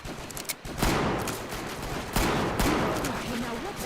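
Video game gunfire, dense bursts of shots with sharp heavy onsets rolling into sustained crackling fire, loud and close over game ambience and a voice speaking.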